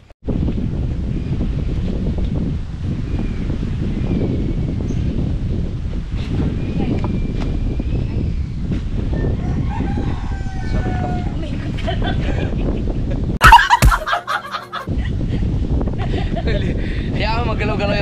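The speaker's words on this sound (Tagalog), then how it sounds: "Kasi ang lakas ng hangin eh." Strong wind buffets the microphone in a constant roar, with faint voices underneath and a brief clattering burst near the end.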